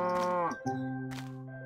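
A cow in a farming video game gives one long, deep moo that bends downward partway through, loud and clear with no talking.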